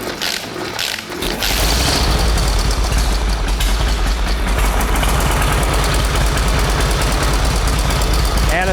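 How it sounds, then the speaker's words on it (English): A 1916 Traub motorcycle engine is kickstarted and catches after about a second, then runs steadily and loudly with a deep, rough, knocking idle close by. "The Traub is in perfect running condition, and I can start it for you right now"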